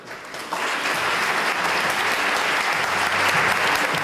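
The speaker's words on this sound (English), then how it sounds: "A big round of applause for these ladies." A crowd at a 2013 scholarship pageant in Addison claps for the contestants, a steady, dense burst of applause that swells suddenly after a half second and holds strong to the end.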